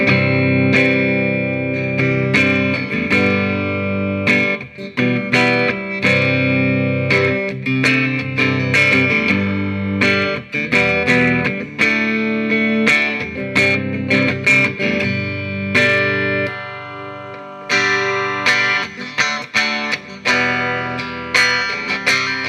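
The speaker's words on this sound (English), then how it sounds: "So little few tones and sounds off of this guitar." A 1965 Fender Jaguar electric guitar plays a run of chords and single notes through effects, distorted and reverberant, with some notes ringing out and others cut short, strummed continuously and up close.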